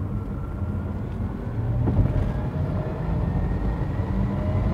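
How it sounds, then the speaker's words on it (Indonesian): A Porsche Taycan accelerates hard, its simulated engine sound a deep, slightly sharp V8-like drone that swells steadily and stays loud throughout, with no talking. "Dan ini suaranya memang dibikin mirip suara mesin."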